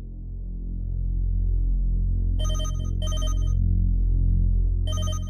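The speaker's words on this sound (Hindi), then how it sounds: "अरे पापा की फोन।" A phone ringtone sounds in three short electronic bursts over a steady low hum, fairly close.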